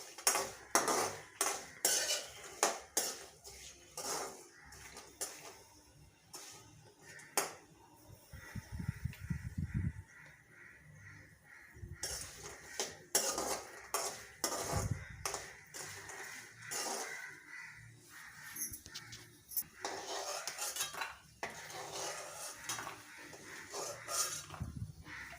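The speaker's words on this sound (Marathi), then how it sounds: "बदाम तळून घेऊया." Almonds being fried in a pan for fenugreek jaggery laddoos, with repeated metallic scraping and clinking of a spatula against the pan and a soft hiss underneath, close and intermittent, no talking.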